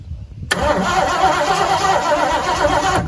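A starter motor cranks a 1973 Ford Mustang engine, unused for 12 years, in a loud, continuous churning whir that carries on for several seconds, close by and alone.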